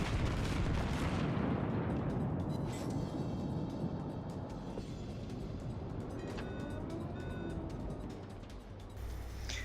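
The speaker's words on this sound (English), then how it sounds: "The enemy ship fires on my ally" Battleship naval gunfire in World of Warships, with New Mexico and Amagi battleships trading fire: heavy booming salvos and rumbling blasts, loud at the start and then a continuous distant barrage with crackling impacts.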